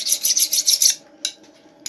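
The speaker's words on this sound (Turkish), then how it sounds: "Bu taşla, zımparayla bilenip ondan sonra yağ taşıyla bilenecek." Hand-forged knife blade sharpened on a stone with sandpaper, six quick rasping strokes in a fast rhythm, close and loud, then a pause and a couple of lighter scrapes.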